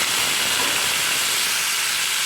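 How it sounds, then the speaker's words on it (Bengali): Prawns slide into hot oil in a pan for a cabbage curry, a steady, loud, close hiss of sizzling that holds evenly from start to finish. "তেলটা গরম হয়ে এসছে, এবার আমি মাছটা দিয়ে দিচ্ছি।"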